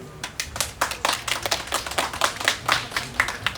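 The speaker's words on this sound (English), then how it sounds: "a round of applause to him" Conference audience applauding a speaker at a tech summit in Nairobi, a dense burst of clapping from many hands lasting a few seconds, loud and close, with no speech.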